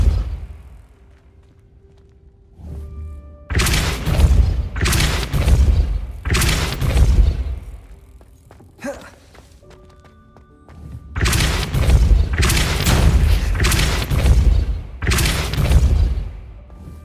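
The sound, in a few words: Depulso force spell cast, from video game Hogwarts Legacy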